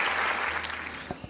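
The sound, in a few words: audience applause welcoming speaker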